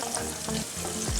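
Kushari topping frying in ghee makes a dense, continuous sizzle close by, with soft stirring scrapes running through it.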